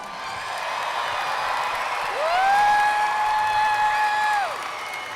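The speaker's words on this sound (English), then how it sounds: "let's give them one more round of applause" A large crowd fills the Hilton Coliseum arena at Iowa State University with sustained, distant applause and scattered cheers, and a long whistle rises over the clapping midway.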